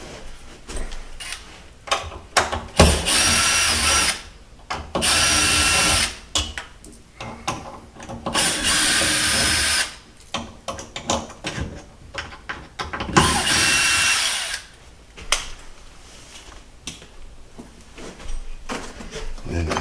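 A power drill backs screws out during apartment maintenance, giving several short close whirring bursts with pauses and clicks between them.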